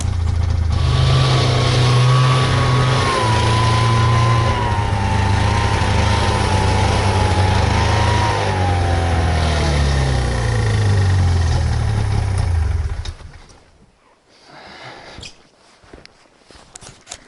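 A Taiga Varyag 550V snowmobile engine drones loudly while driving through snow, its pitch rising and falling with throttle, then cutting out abruptly near the end into quieter crunching and shuffling.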